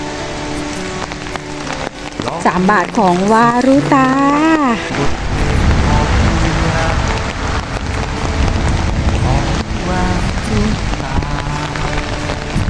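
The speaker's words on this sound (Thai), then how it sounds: "ฝนตกแบบ อย่างหนามมากๆเลยค่ะ" Heavy rain pours down in a dense, loud, continuous roar, with someone speaking over it near the start.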